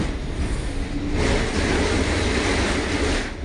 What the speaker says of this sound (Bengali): ট্রামে করে যাচ্ছি অফিসে